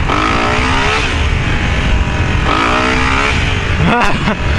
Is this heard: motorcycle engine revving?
yes